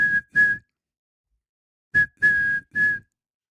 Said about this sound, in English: That's a good little whistle there